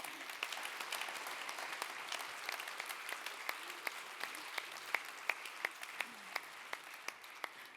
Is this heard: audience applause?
yes